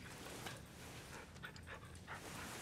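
A dog pants in quick, rhythmic breaths, faint and fairly close, with a soft steady background hiss and no talking.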